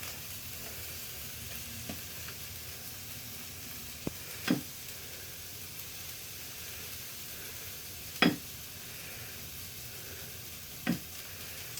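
Onions frying for a quiche give a steady, quiet sizzle in a pan, broken by a few sharp clicks of stirring, heard alone at close range.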